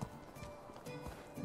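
Horse hooves clip-clop in the medieval survival game Medieval Dynasty, a quick run of soft, close hoofbeats over an ambient game soundscape.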